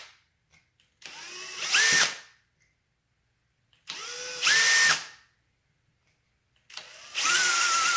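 A power drill bores into a dried birdhouse gourd in three short bursts, each spinning up with a rising whine and grinding through for about a second, separated by quiet pauses.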